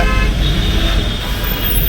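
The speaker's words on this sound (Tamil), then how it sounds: "இங்கே செம டிராஃபிக் ஆகுது." Heavy road traffic roars loud and continuous nearby, with engine rumble and a horn toot mixed into the dense noise.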